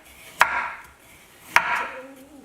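Two crisp knife strokes cut through daikon radish on a cutting board, each a sharp tap followed by a brief swish, about a second apart and close up, with no talking.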